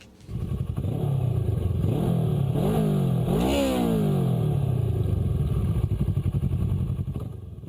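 A motorcycle engine revs up and down close by, loud and continuous, with rising and falling pitch sweeps and a slight clatter, and no voices.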